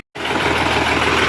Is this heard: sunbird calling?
no